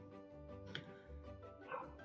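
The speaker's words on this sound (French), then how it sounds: "Je m'excuse pour ce bruit de fond de petit chien" A small dog yaps faintly in the background indoors, with two or three distant high barks set against a steady low room hum.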